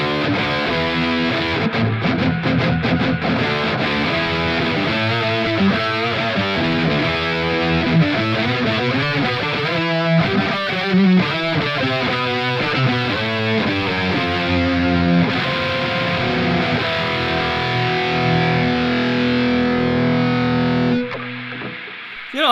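A distorted metal electric guitar through a Bias FX 2 Pro preset riffs loudly with a sweeping wah, its tone swelling and filtering through fast chugging notes before ringing out near the end.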